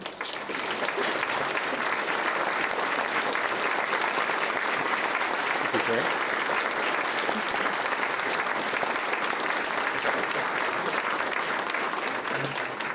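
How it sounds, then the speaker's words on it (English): Sustained audience applause at a lunch event honoring the founders of Hope Gospel Mission, steady and dense for the full duration with no pauses. "I just wanted to give Mark and Cindy Donnelly, the founders of Hope Gospel Mission, a huge round of applause"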